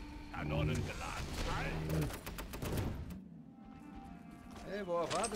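Cannon fire in the video game ParaWorld: a burst of sharp, loud blasts in the middle, with game character voices talking over much of the clip.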